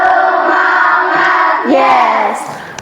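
A classroom of children chants loudly and in unison, their voices sustained and tonal, with a rising shift partway through before the chant fades.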